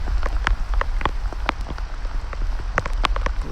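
Rain pattering outdoors beside a campfire at a creek, steady close drops with sharper individual splats and a low constant rumble underneath, no voices.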